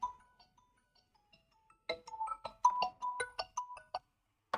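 A phone ringtone chirps during a classroom physics lecture: faint tones at first, then a louder run of bright, repeating melodic beeps in quick rhythm, close and clear with no talk.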